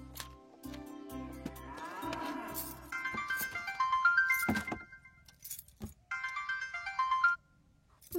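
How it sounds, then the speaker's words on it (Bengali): A mobile phone ringtone sounds for an incoming call, a bright repeating electronic melody in two bursts separated by a short pause, fairly close, with a brief jangle before it. "সকাল থেকে 3বার ফোন দিয়ে ফেলছো। আমি কি সব কাজ কাম বাদ দিয়ে তোমার ফোন রিসিভ করব?"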